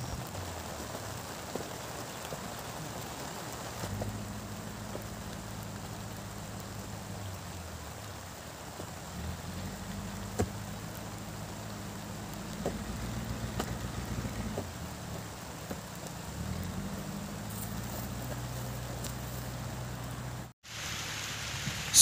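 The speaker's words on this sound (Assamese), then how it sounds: "কিন্তু পাছত গৈ বৰষুণটো ডাঙৰকৈ দিলে" Heavy rain pours down steadily outdoors during a work day, a dense continuous hiss of drops on surfaces with a low rumbling undertone throughout.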